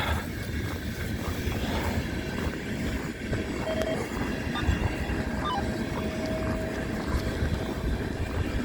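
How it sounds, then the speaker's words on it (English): A CN eastbound freight train rolls past at night during a blizzard, giving a continuous broad rumble and rail noise at steady loudness throughout with wind, no speech. "We got a CN eastbound train rolling through."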